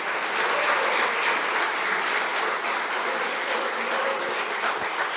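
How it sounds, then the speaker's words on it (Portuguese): A church congregation applauds during a sermon, a steady wash of many hands clapping at moderate volume, sustained and even, with no voices standing out. "Você pode aplaudir a Jesus por causa do evangelho pregado."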